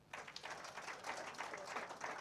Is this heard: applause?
yes